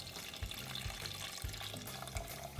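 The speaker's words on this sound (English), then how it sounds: "we are going to add the rest of our beef broth" Beef broth pours into a pan of cooked-down mushrooms and softened onions, making a steady splashing, trickling wash with low bubbling thumps, close and moderately loud.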